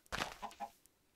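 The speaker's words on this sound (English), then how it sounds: "Look at that chicken. He's the size of me." A Minecraft chicken gives a short burst of clucks in the video game, a quick, faint, close sound lasting about a second.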